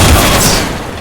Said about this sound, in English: people shooting everywhere